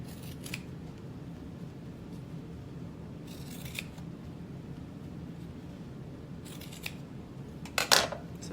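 Scissors snip through leather while trimming pieces for a handmade clutch wallet, giving a few short crisp cuts spread across a quiet room, with a quick cluster of snips near the end.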